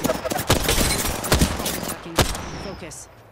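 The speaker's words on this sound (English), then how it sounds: "Getting shot at. Firing." Gunfire in the battle royale game Apex Legends: dense, loud bursts of shots and impacts close by, with sharp cracks around one and two seconds, then thinning out as game voice lines and effects play over it.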